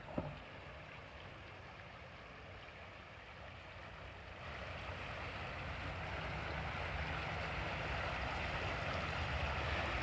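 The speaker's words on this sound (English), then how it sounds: "I hope you guys can hear the sound of the creek" A creek in Irons Park, Ogemaw County, Michigan, flows with a soft, steady wash that swells slightly louder partway through, distant and quiet with no voices.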